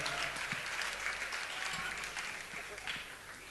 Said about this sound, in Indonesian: Tepuk tangan buat dia karena dia mengajarkan ketulusan buat kita.